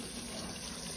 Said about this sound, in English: We're gonna put enough water in here to cover everything. Cold water to get started.